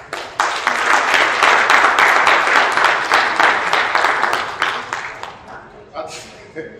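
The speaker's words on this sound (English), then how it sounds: "Let's give him a round of applause." Audience applause at an East St. Louis town hall meeting: a loud burst of many hands clapping starts abruptly, holds steady for several seconds, then thins into scattered claps and fades out.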